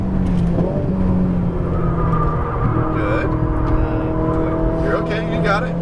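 A Ferrari 488 GTB engine pulls hard on a racetrack, a steady loud roar with rising tones as the throttle opens, while an instructor talks over it.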